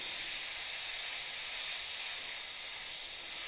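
An airbrush sprays paint onto a miniature skeleton knight, giving a steady, close, airy hiss that stays even throughout with slight swells in level.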